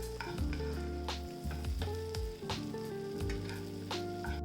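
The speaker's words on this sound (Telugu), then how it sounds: "2 క్యూబ్స్ బటర్ వేసుకొని చికెన్ కుక్ అయ్యేంత వరకు కుక్ చేసుకోండి" Chicken breast sizzling in butter in a pan, a steady close frying crackle with faint clinks and stirring noises throughout, no talking.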